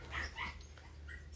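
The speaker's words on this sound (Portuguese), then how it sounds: "vou pedir desculpa pelo meu cachorro que tá preso aqui" A chained-up dog whines and yips in short high-pitched bursts, two or three brief cries close by over a low room hum.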